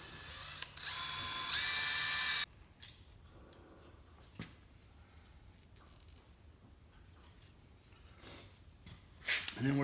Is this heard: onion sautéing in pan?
no